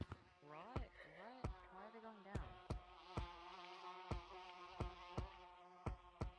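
Buzzing bees chase the player in a video game, a steady insect drone under a game soundtrack with regular sharp percussive hits and bright tones; loud and close throughout.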